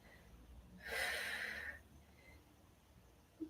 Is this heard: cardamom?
no